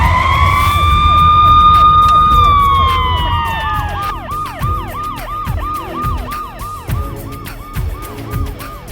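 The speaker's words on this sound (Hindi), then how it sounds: "उसके साथ ही जोर जोर से सायरन बजने लगा" A police car siren wails loudly and close, first as a long rising and falling tone, then switching to a rapid, repeating yelp that pulses steadily to the end.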